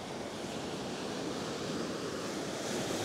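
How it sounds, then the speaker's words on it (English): Ocean waves break against a rocky headland, a continuous wash of surf and wind noise, fairly close and steady with no talking. "So you can see there's a wave just coming here now."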